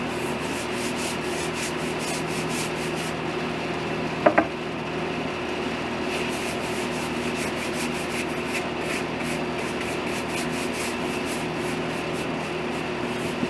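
A brush strokes wood stain onto a freshly sanded table leaf in a steady, rhythmic rubbing swish, close up and continuous, with a brief knock partway through and no talk.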